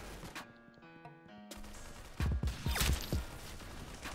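Gunfire in Roblox Arsenal: a few sharp shots and cracks at irregular intervals, with a tonal game sound early on and a brief silent gap.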